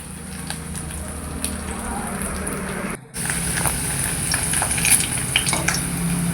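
Bitter gourd frying in oil in a kadai, a steady close sizzle with faint clinks of a utensil, briefly dropping out for a moment midway before resuming.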